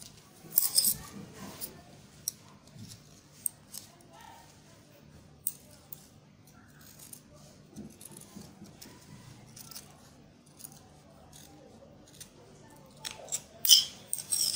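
Scissors cut out fabric for an apron-style cape dress, giving quiet, intermittent snips and crisp bursts of blade noise, with a few louder cuts near the start and end.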